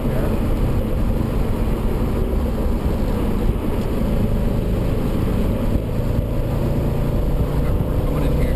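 A loud, steady engine and road roar comes from inside an Audi RS4 driven hard around the Lime Rock race track, with a constant drone and no distinct shifts.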